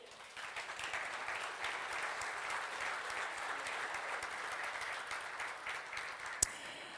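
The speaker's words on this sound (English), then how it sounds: "An applause for all of you." Sustained audience applause fills the hall at the DSM23 Donse Shipping Meet opening ceremony, a steady broad wash of many hands clapping at even loudness, with one sharp louder clap near the end.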